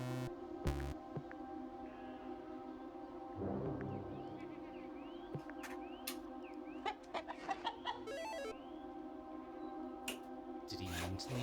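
Hens clucking inside a henhouse in a video game, scattered short clucks and calls over a steady background hum, with occasional sharper sounds.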